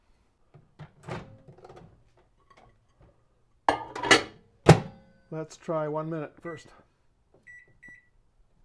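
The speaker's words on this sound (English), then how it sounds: "Put that over the brown sugar and put it in the microwave." A microwave oven door thunks shut and buttons beep, followed by a steady electric hum as the microwave runs; a person speaks briefly between the sounds.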